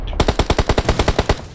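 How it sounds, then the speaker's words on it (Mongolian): Rapid automatic gunfire from opponents in a video game tournament match: a loud, evenly spaced burst of about eleven shots fired close and heard alone. "Наач над руу буудаад байгаа шүү дээ хүмүүс."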